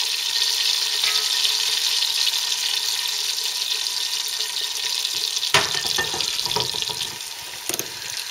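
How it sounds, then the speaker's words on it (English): Onions frying in melted butter in a pan, a steady bright hiss and sizzle throughout, with a louder crackling rush and a few clatters toward the end. "Now the butter is melted and I'm going to add the onions to the pan."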